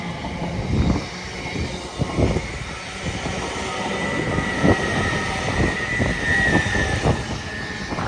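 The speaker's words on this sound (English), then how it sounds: "now creeping slowly is an LNER Azuma going from Harrogate" An LNER Azuma train, unit 800-202, travelling from London King's Cross to Harrogate, creeps slowly through Peterborough on the East Coast Main Line, giving a steady close rumble with soft rhythmic wheel clicks throughout.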